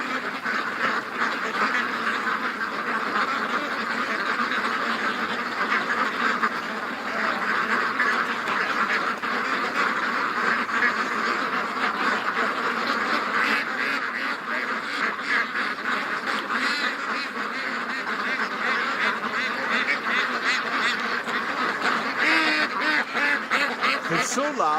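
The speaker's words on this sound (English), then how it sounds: "What an awesome crew of ducks." A large flock of ducks quacks loudly and continuously, with geese honking among them, a dense nonstop chorus close by with no pause.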